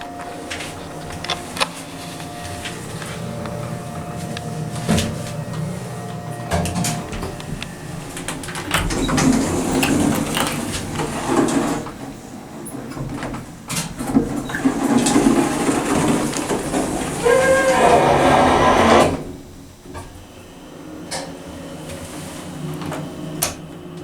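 A vintage Atlas swing-door hydraulic elevator runs steadily with a continuous mechanical hum and rumble, mostly alone at close range, with a few clunks and rattles before a louder grinding stretch near the end.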